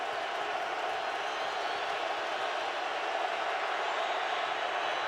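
A stadium crowd at an NFL game on third down, 3rd and 6 from the 19 in the red zone, roars as a dense, steady wash of distant voices and noise, sustained and building.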